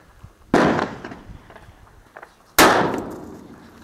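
Two heavy gunshots from a .500 Linebaugh Maximum revolver firing 540-grain lead bullets outdoors, each a loud sharp blast with a long decaying echo, spaced about two seconds apart.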